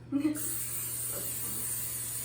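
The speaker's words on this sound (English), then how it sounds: "So just spray. I sprayed a little bit." Cooking spray hisses steadily from a can into a muffin tin for about two seconds, close and fairly loud, after a brief spoken word at the start.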